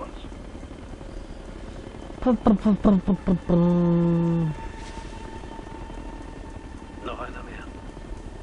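An enemy helicopter in the video game Ghost Recon: Future Soldier gives a brief burst of rhythmic, thudding rotor pulses that swell into a steady droning tone, then fade. A player speaks briefly over the game background.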